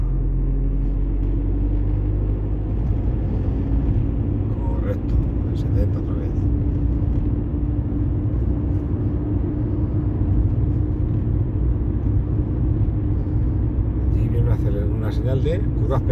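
A car pulls away and builds speed on a road near Sarria during a driving exam, its engine rumbling steadily and close throughout, with occasional voices in the cabin above the low drone.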